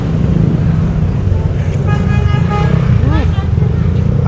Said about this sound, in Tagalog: Hanggang doon, traffic, kung napapansin nyo, no?